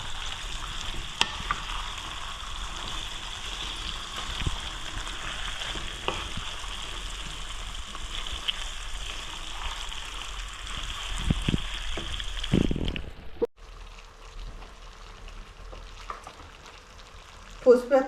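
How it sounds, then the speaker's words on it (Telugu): Tomatoes fry with broad beans in a pan, a steady close sizzle broken by stirring scrapes and clatter. Near the end the sizzle drops away and a few utensil knocks follow. "టమాటాలు వేసుకుని ఒక్కసారి తిప్పి ఉప్పు కారం కూడా వేసేసుకుందాం."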